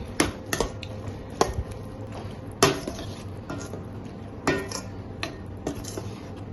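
A ground chickpea paste is stirred into a thick chana gravy in a pan, making repeated close clinks and scrapes of a spoon on metal with a faint wet squish between strokes.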